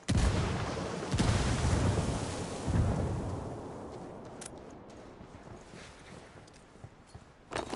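A frag grenade going off in a loud, rolling blast that booms and rumbles for several seconds before slowly fading, with sharp crackling hits scattered near the end.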